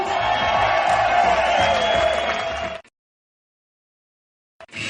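Crowd at a Bug Jam 2003 contest cheering and applauding the winner: a loud burst of clapping and whoops for nearly three seconds, cut to silence, then resuming briefly at the end.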